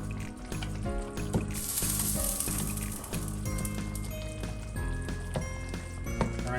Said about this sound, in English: now I'm going to just give this a stir to get these things